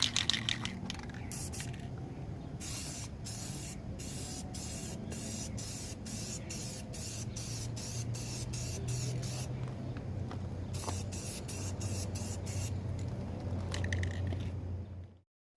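Aerosol clear coat sprayed in a second coat over a restored car headlight, a long series of short hissing bursts with brief pauses between, fairly close, over a low background hum.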